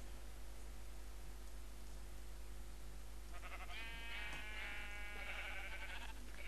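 A Minecraft sheep bleats in wavering cries partway through, faint over a steady background hiss and low hum.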